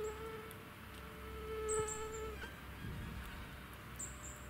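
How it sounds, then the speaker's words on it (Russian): A faint, high-pitched mosquito whine drifts in and out near the ear, over a quiet outdoor background with a few distant chirps. "Комары мешают."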